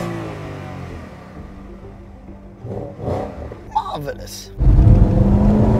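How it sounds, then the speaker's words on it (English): Porsche Panamera GTS engine heard from inside the cabin, a low hum building through a couple of blips before a loud, sustained rev near the end, with a person speaking briefly in between. "This is what the revs look like from inside and sound like from inside."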